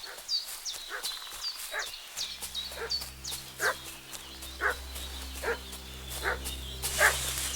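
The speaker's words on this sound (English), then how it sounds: "What's that dog making such a fuss about?" Dog in the medieval game Kingdom Come Deliverance II barking and whimpering excitedly, a regular series of short yips and barks at moderate distance over a low ambient hum.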